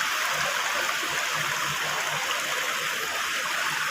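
Artificial waterfall in Japan pouring steadily, a loud, unbroken rushing hiss of falling water close by, with no voices or other sounds.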